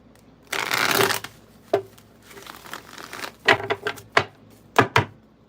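A deck of cards is shuffled close by: a long riffling burst followed by several quick, crisp snaps and flicks.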